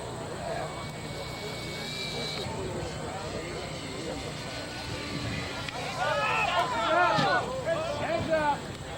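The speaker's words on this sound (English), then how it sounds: "the new Jim Ryan Hellcat is presently flying" An electric model Hellcat airplane flies at an electric airshow, its motor a steady whine that rises and bends as it passes overhead, heard at a moderate distance under a crowd's chatter and voices.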